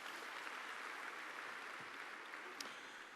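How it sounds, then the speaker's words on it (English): Audience at the Africa Cup of Nations football draw ceremony applauding, a steady, distant wash of clapping filling the hall, fairly faint and unbroken for about three seconds. "Can we clap hands for that wonderful partnership?"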